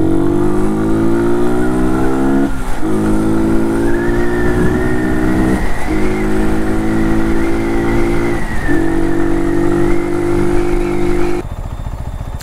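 A Brixton Cromwell 125 motorcycle riding in traffic, its single engine droning loud and close with repeated gear shifts that drop and rebuild the pitch, road and wind noise underneath and no talk.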